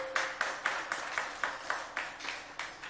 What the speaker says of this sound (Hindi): तालियां बजाओ जबरदस्त।